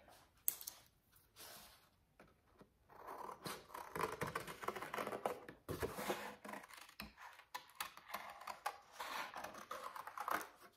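Paper is cut for handmade paper flowers, giving close, quiet crisp snips and rustles in irregular bursts with short pauses between them.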